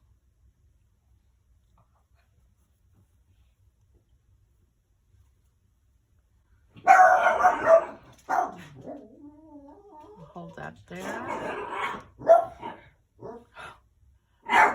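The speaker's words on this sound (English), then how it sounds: "My husband let the dogs up here" Several dogs bark and yip close by in a home, loud sharp barks coming in bursts with whines and growls between them, after a stretch of near silence; someone speaks briefly.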